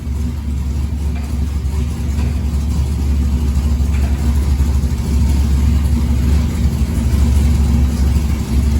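A car engine revs and drones steadily at close range, a loud continuous low rumble with slight rises in pitch and no speech.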